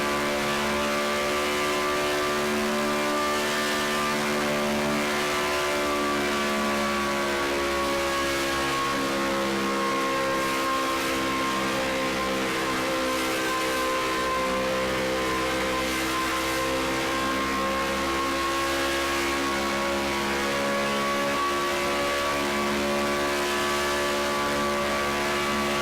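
Car engine in Project Cars 2 holds a steady, loud drone with layered harmonics for the whole stretch, varying only slightly in pitch as the car drives, with no voices.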